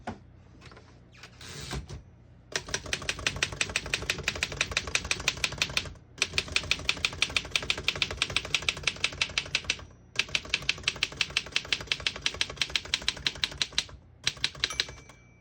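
A 1917 Underwood 10 antique desktop typewriter being typed on in quick, sharp mechanical keystrokes, close and loud, in long bursts separated by brief pauses.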